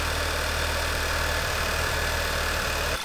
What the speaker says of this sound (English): this is the cold start misfire I'm talking about